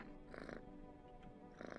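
A cat purrs as it is petted in the video game No, I'm Not Human, with two short, brighter bursts of sound rising over a low, steady background hum.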